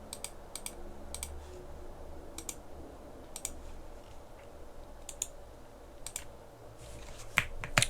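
Keys clacking on a computer keyboard as a command is entered, quick irregular clusters of light clicks over a low steady hum, fairly close, no talking.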